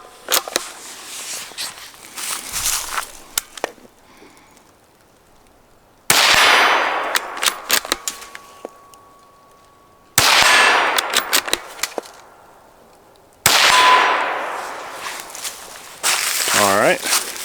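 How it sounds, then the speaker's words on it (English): .22 Magnum (WMR) rifle shots heard at the shooter's ear, fired unsuppressed and then suppressed, come as sharp, loud cracks spaced several seconds apart, each trailing off in a long reverberating decay. "this one's gonna be unsuppressed 3 shots and then suppressed 3 shots"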